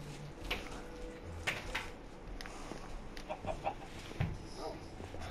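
A Minecraft chicken clucks in short, scattered bursts, fairly faint against the quiet game background and spaced irregularly across the moment.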